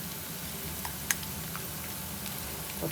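Garlic frying in a pan for a gawar phali curry, a faint continuous crackling sizzle with a few small pops, quiet and steady, close by with no talking.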